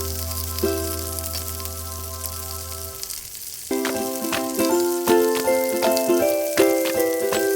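A pork patty with salted fish fries in a pan with a steady crackling sizzle, interrupted by a few clatters as it is turned, then continues with rhythmic popping and spatters.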